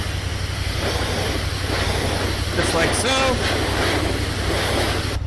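Pressure washer misting water over an Earth & Turf 415-SP mower, a loud continuous hissing spray with a low engine drone beneath, while someone talks briefly over it.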